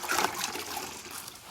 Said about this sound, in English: rinse the walls with hot water